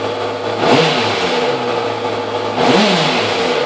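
A big bike motorcycle engine revs hard twice, with a rising roar near 0.7 seconds and again near 2.7 seconds over a steady idle rumble, loud and close with no talking.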